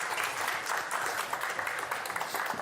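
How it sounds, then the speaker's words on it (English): Steady applause from a crowd at a live energy-network meetup event, continuous clapping filling the room for a few seconds with no talk over it. "Big round of applause, everyone."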